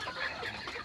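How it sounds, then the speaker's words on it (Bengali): A farm chicken clucks faintly in a brief, low-level burst, with soft throaty calls. "মুরগি"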